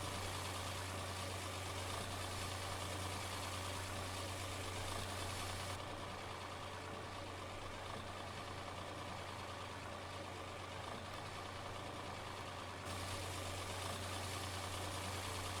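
Tractor engine idling in Farming Simulator 17, a steady low drone holding at constant level throughout with a faint hum on top and no talk.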